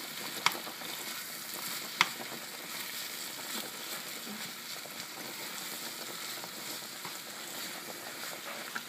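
Ground beef sizzles and fries in a pan while being stirred for Cuban picadillo, a steady close crackle with a couple of sharp scrapes from the stirring and no talking.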